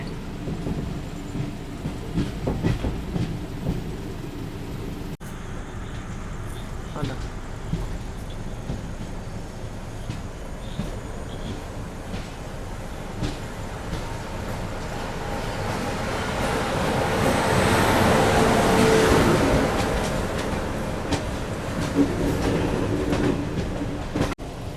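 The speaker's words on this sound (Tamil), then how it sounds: "ட்ரெயின் இப்போ பார்த்தீங்கன்னா ஆன் டைமில் எர்ணாகுளம் டவுன் ஸ்டேஷனுக்கு ரீச் ஆகிட்டு இருக்குங்க" The Kochuveli–Yesvantpur AC Garib Rath Express rumbles steadily along the tracks near Ernakulam Town station, with continuous rattling and clacking, swelling louder for a stretch before easing slightly.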